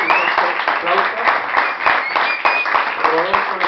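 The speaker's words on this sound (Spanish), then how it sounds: "y nuestro aplauso" An audience claps at a live concert, a loose patter of individual claps with a few voices heard over it.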